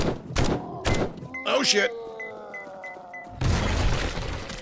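Small demolisher zombie exploding in the video game 7 Days To Die with a joke mod: several heavy thunks and a shattering crash, followed by ringing game tones and another rumbling burst, with a man exclaiming over it.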